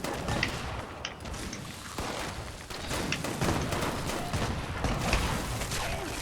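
Fast, continuous gunfire in the Fallout 76 video game, a dense, steady rattle of shots at moderate loudness with a rough, noisy texture throughout.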